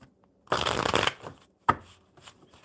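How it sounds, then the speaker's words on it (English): A deck of playing cards is shuffled in one loud riffle lasting about half a second, then a sharp snap and a few softer shuffling rustles follow, close to the microphone with no talk. "One more good shuffle."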